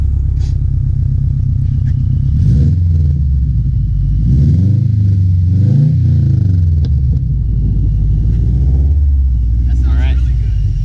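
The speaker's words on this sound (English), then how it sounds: "Let me get a couple revs from you." A car engine rumbles and revs up and down several times, with pitch rising and falling, close by; a voice is faintly present.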